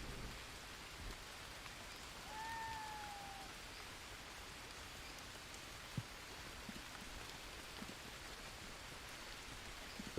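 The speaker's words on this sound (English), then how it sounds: "It is raining. The rain will wash us." Soft, steady patter of rain falling in the video game Green Hell, faint and continuous, with a brief high chirp and an occasional light knock in the background.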